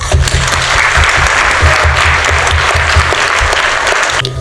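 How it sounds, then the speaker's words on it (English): An audience at a Bharatanatyam rangapravesham felicitation applauds continuously, a loud, full wash of clapping over a low, steady rumble from the hall that holds through to the end. "Let us take a moment to applaud her."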